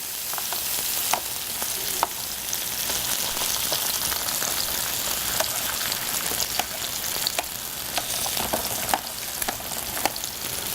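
Fennel frying in a hot pan, a close, steady sizzle dotted with frequent sharp pops and crackles, with no one talking.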